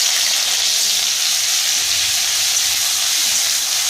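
Onion paste hitting hot oil with dried chillies in a pan for a Bengali fish curry, a loud, steady, close sizzle and hiss that continues unbroken throughout with no voices.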